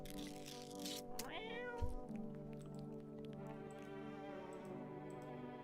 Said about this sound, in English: Reach out and pet the cat.